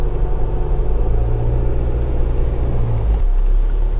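An All-New Isuzu MU-X driving at speed, heard as a loud, steady low rumble and engine drone from inside the cabin, with the engine tone dropping shortly before the end.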